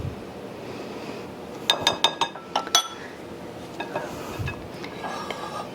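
Banana bread batter is scraped into a prepared baking pan: a quick run of bright metallic clinks and taps from a utensil against the pan or bowl, then softer scraping and shuffling.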